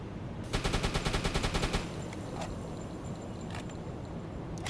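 Rapid bursts of automatic gunfire fired at a ship in a naval video game: a fast, evenly spaced volley early on, followed by scattered heavier impacts and booms over a continuous rumbling background.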